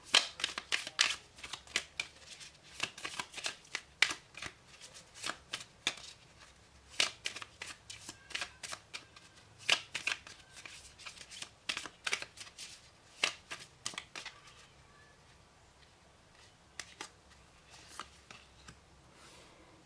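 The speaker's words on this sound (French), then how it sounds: "on va faire un tirage en trois cartes avec le Lenormand" Lenormand cards being shuffled for a three-card reading: repeated soft riffling and card-slapping bursts in an irregular rhythm, close and fairly quiet, with no talking.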